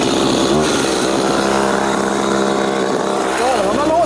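Chainsaw cutting at close range, its engine roaring loud and steady throughout with a slight pitch sag as it bites, while people talk beneath it.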